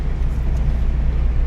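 A manual car's engine droning steadily at close range while cruising as the driver presses the clutch and shifts into fifth gear, a low continuous hum with no speech.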